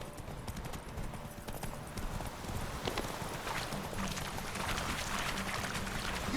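Geralt's horse Roach gallops in The Witcher 3, hooves clip-clopping in a steady rapid rhythm under a constant wash of ambient game noise, close and fairly loud throughout.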